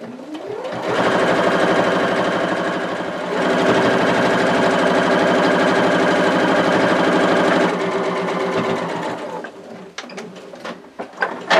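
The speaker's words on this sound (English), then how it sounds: "I'm just going to do a straight stitch all the way around the edge" Sewing machine runs a long straight stitch through layered felt on a clutch bag, a steady close mechanical whir with one short pause, then slows to a few scattered clicks as it stops.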